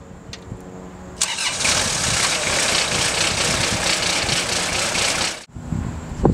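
A Geoprobe drilling machine engine cranks and catches after a quiet start, then holds a loud, steady close-up idle for about four seconds before cutting off abruptly.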